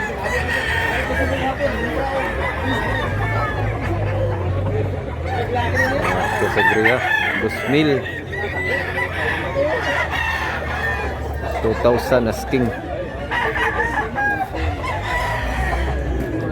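Chickens and roosters at a market in Mantalungon, Cebu, crowing and clucking repeatedly at close range. People talk over the birds in a busy, crowded setting.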